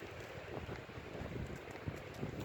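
Steady wind rushes across an open cemetery at night, a constant broadband roar with gusty swells and occasional buffeting thumps on the microphone, with no voices.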